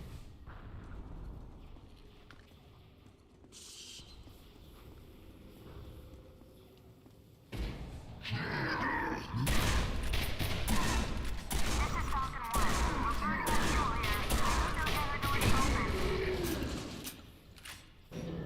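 The dark matter gun in Quake 4 fires amid combat. A quieter, low rumbling stretch gives way to loud, dense bursts of weapon fire and heavy impacts that keep going for about ten seconds.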